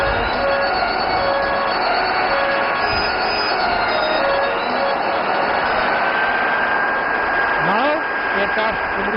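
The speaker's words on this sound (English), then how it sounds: "Now the aircraft is initiating 360-degree turn in a right pattern." Aircraft flying a 360-degree right-hand turn at Aero India 2025 in Bangalore, a steady distant jet roar lasting throughout with a brief rising pass near the end.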